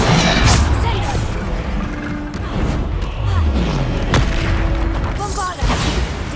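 Bombarda spell explosions in Hogwarts Legacy boom and thud repeatedly amid other combat spell effects, loud and close, with a voice calling out spell names over the bursts.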